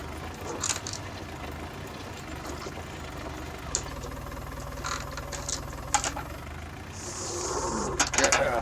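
A County 754 tractor engine runs steadily at a low throb while the machine swings around during spring cultivation, with a few knocks and clanks and a brief hiss near the end.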